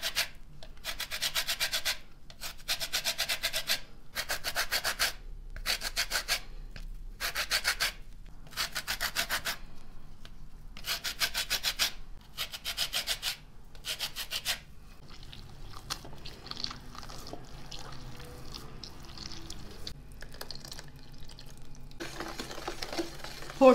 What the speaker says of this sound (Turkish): Dış yüzeyini iyice yıkadığım 1 adet portakalın kabuğunu rendeliyorum.